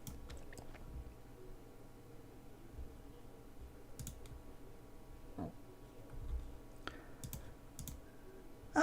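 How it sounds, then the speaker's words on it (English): Computer mouse clicking at a desk, sparse crisp clicks scattered irregularly over a quiet background hum, close but faint, with a slightly louder click at the very end. "So much clicking necessary."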